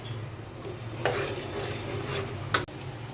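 Blended onion and garlic paste fries in oil in a pan for a Bengali shrimp dish, giving a soft steady sizzle with a couple of sharp scraping stirs of a utensil against the pan.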